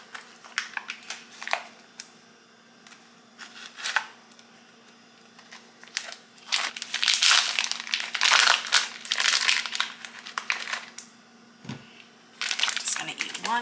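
A resealable package of jalapeno cheddar smoked sausage being handled, with bursts of crinkly plastic rustling and a crackling zip-seal stretch near the middle, close up, with a steady low hum underneath.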